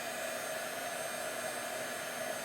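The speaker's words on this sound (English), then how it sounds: "Take your heat tool. Warm it up. I'm sorry, it's loud." An embossing heat tool blows with a steady, loud whooshing roar and a faint hum, continuous and unbroken throughout.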